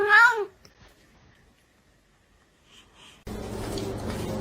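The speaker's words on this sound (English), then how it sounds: "Kitty politely explains to his human that he doesn't want to be pet right now." A cat lets out one short, close, sharp meow of protest at being petted, followed by near silence and then a burst of dense, noisy sound.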